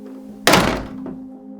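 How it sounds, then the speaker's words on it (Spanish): A door closing shut as a sound effect in a narrated horror story, a single heavy thunk with a short echoing tail, loud and close, with no voice over it. "Caminó hacia afuera y cerró la puerta detrás suyo."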